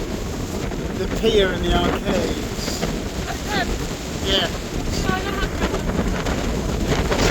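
Strong storm-season wind buffets the microphone on a seaside pier, a constant roaring rumble with gusts, while people talk over it.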